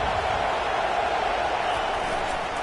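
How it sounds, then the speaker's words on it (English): Stadium crowd at a college football game, a steady loud roar of many voices filling the clip without pause, broad and continuous with no distinct cheers standing out. "Listen to the crowd energy here in the early going."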